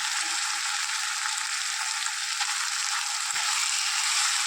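Ground spice paste of onion and chilli fries in a pan as tomato goes in, making a steady, bright, close sizzle with a slight change near the end.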